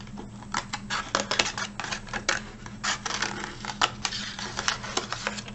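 Scissors cut out a paper Mardi Gras mask with a rapid, uneven run of crisp snips and paper rustles, close and moderately loud.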